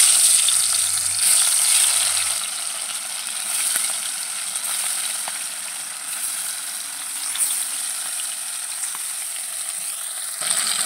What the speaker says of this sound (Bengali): কড়াইয়ের তেল গরম হয়ে গেছে, এখন আমি মাছগুলো দিয়ে দেবো।